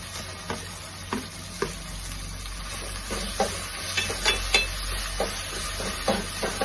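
Tomatoes fry for veg pulao in a pan, a steady close sizzle and hiss broken by regular scraping stirs of a utensil against the pan, with no talking.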